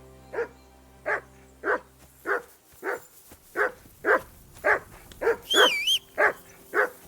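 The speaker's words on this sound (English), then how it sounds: "stop barking." Dog barking in the video game Kingdom Come: Deliverance, about a dozen sharp barks spaced in a steady rhythm, close and loud, with a brief whistle partway through.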